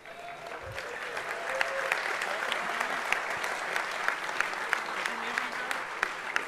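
A hall audience at the DEFCON 20 hacker conference closing ceremonies claps steadily, a dense and sustained burst of many hands with faint voices mixed in.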